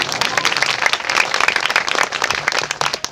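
Quick burst of clapping from an audience at a Christian satsang gathering in rural Hardoi, a close, uneven patter of many hands lasting a few seconds.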